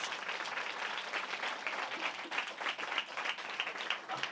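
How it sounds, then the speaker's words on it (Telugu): A church congregation claps for Jesus in dense, sustained applause, many hands beating together continuously with slight swells, filling the room evenly from start to finish. "Give big claps to Jesus."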